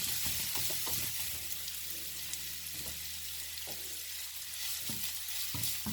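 Onions for samosa chaat fry loudly in a pan, a constant bright sizzle broken by several sharp stirring clanks and scrapes, close and without speech.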